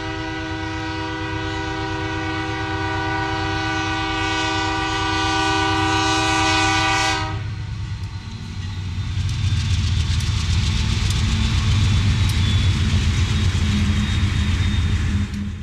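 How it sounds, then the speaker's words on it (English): A Union Pacific General Electric C40-8 diesel locomotive sounds a loud, sustained multi-chime horn for about seven seconds, then its heavy engine rumble and rolling wheel noise carry on as the train passes close by. "The C40-8 was one of the first microprocessor-controlled diesel locomotives, introduced during the 1980s."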